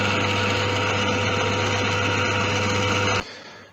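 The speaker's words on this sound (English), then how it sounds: "now let's go and drill that out." A power drill bores out the tremolo cavity in a guitar body, a loud steady high whine with a constant hum that stops abruptly near the end.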